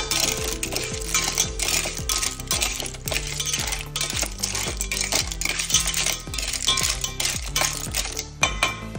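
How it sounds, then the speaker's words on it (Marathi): Clams go into a pan for Goan tisryo sukha with softened onion and tomato, making a steady run of hard clinking, rattling clatters against the metal, repeated loud and close for several seconds with no talking. "तिसऱ्यो घालून बरे दवरून घेऊया"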